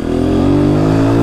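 A Honda Start 160 motorcycle with a tin exhaust revs loud and close, holding a steady, buzzing engine drone that climbs slightly in pitch.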